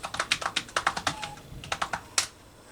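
Rapid typing on a computer keyboard, a close, crisp run of irregular key clicks in quick bursts with a brief pause midway and a final louder tap, with no talking.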